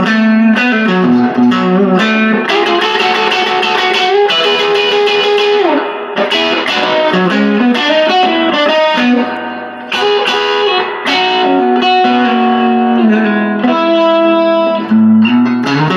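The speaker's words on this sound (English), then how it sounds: "I'm just going through the guitar and playing it through a little Supro." A Squier Contemporary Jaguar electric guitar is played through a small, roughly 1-watt Supro amp with reverb, giving a continuous run of loud, close chords and melodic lines with no talking.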